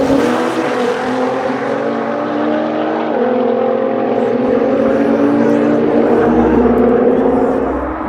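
Loud street race car engines roar and climb in pitch as the cars accelerate hard from the start, a sustained rising drone with a gear shift midway, close and powerful.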